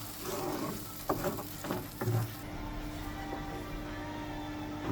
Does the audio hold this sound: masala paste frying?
yes